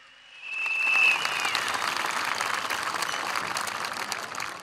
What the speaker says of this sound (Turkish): Büyük alkış kurumsal katılım gösterenler için,